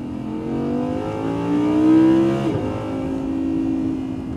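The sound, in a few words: Audi R8 engine revving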